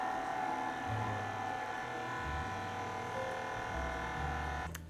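A stand mixer with a paddle attachment runs steadily through apple cake batter, a continuous motor whir and hum with slight shifts in pitch as the paddle turns.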